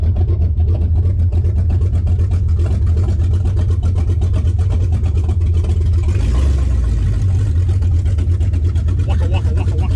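White Wedgie, a car under fuel-cell conversion, drives off with a steady low engine drone and a brief surge of revving midway, close and loud throughout, with voices nearby.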